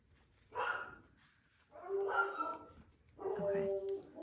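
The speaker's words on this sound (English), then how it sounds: "Sorry about the dogs." Dogs bark in three separate bursts of repeated yips and barks, fairly close, with short quiet gaps between them.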